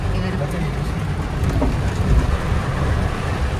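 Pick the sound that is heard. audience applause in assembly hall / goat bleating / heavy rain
heavy rain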